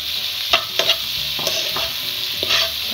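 Tomatoes and green chilies fry in a pan for a home-style Tamil dry chicken curry, giving a steady bright sizzle broken by several sharp clinks and scrapes as a spoon stirs the mixture.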